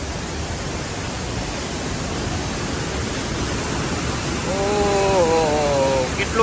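Heavy rushing water pours steadily through a deep channel after a downpour, a dense continuous roar, while a faint tonal whine or voice rises and falls briefly near the end.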